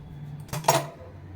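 Metal pots and pans clinking and clattering as they are lifted off a stove, two quick close knocks in a quiet kitchen with a low hum beneath.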